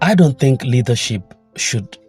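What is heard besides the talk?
No distinct noise like a dog, phone or traffic.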